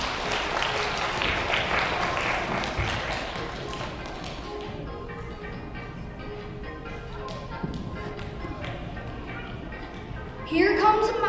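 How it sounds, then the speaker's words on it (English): Audience applause at a space-themed fashion show: dense clapping that is strongest at the start and gradually thins, with voices and crowd noise mixed in and a brief brighter burst near the end. "Give a round of applause to the sun"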